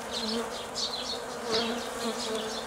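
Honeybees buzz around the frames of a hive, a dense, continuous droning swarm that stays fairly close, with individual bees swelling in and out over the steady hum.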